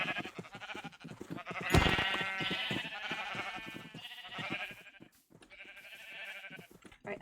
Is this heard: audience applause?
no